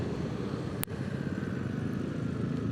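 A Yamaha NMAX V3 motor scooter rides through a flooded road, its engine humming steadily up close over continuous low rumble and wash, with a single sharp click partway through.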